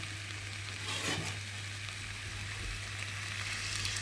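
A soybean, potato and pumpkin vegetable curry sizzles and fries in a pan as a spoon stirs it, with a brief louder scrape near the start over a steady hiss and a low hum in the background.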